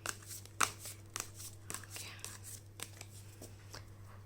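A deck of tarot cards is shuffled close up: soft riffling and tapping in uneven bursts, quiet against a steady low hum, with a faint voice now and then.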